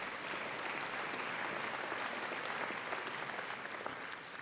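Steady, sustained applause from an audience at a graduation ceremony, a dense continuous patter of many hands that holds evenly for several seconds with no break.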